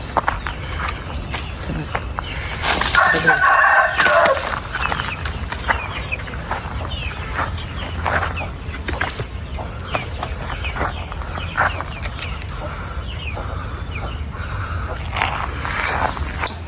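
A Peruvian fighting rooster on a rooster farm crows once early on, standing out above a bed of farmyard noise, footsteps and people talking nearby.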